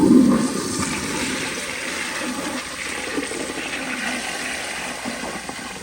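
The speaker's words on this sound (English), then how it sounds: "So here is a flush." A 2001 Kohler Tyrrell service sink flushes through a flushometer fitted with a 3.5 diaphragm, opening with a sharp gush then a steady loud rushing of water that continues evenly to the end.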